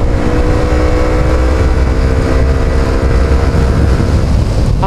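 FKM Slick 150 motorcycle engine held at high revs while riding on flat ground, a loud, steady droning whine with no voices over it.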